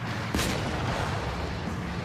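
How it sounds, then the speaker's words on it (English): Tank cannon in the War Thunder video game fires a single loud boom early on, then a rumbling, noisy tail continues underneath. "Behold the M69 cannon in all its monstrous glory."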